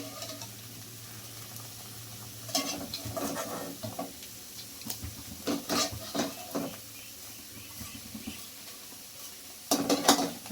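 Bread pieces fry in ghee and oil for bread halwa, a faint steady sizzle broken by repeated stirring scrapes and clinks of a utensil against the pan.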